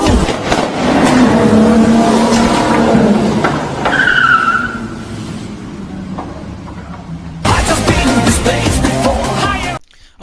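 The Regalia car in Final Fantasy XV roars with a continuous engine drone and squealing tires, loud and close. It cuts out abruptly, then the engine noise returns for the last few seconds.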